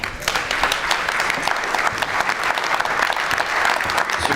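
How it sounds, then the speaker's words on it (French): Warm applause from the audience for an award recipient at a Meilleurs Apprentis de France prize ceremony in Aveyron, continuous dense clapping at steady volume throughout. "une belle photo sous les applaudissements, s'il vous plaît"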